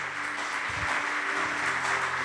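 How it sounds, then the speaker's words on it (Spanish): A church congregation applauds for the Lord with a steady, diffuse wash of clapping that lasts a couple of seconds over a low background hum. "Dale un fuerte aplauso al Señor."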